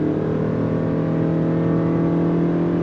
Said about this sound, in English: we're gonna go on throttle from a dead stop